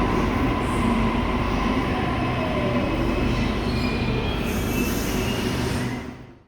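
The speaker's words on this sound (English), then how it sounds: "And the final train is the Waratah Series 2, the VSET." A Sydney Trains Waratah Series 2 (VSET) double-decker suburban train rolls by loudly and steadily, with a broad rumble of wheels on rail and a faint squeal, before fading out quickly at the end.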